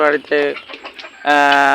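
Several laying hens cluck close by in short bursts, with a louder, sustained squawk toward the end.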